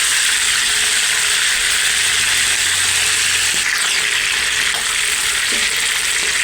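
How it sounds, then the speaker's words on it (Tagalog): Loud, steady sizzling of pork skin frying in hot oil for fried adobo, close up, with a few faint clinks and scrapes; no one speaks. "prito ng konti yung balat"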